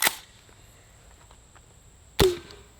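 A homemade can cannon fires with a sharp, sudden blast at the start, then a second abrupt bang about two seconds later, each cut off quickly against a low background hiss.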